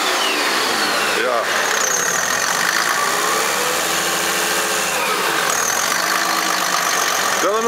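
A car engine revs hard and steadily, loud and close throughout, with a brief dip near the start and a rising surge toward the end.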